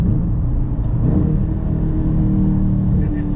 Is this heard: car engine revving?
yes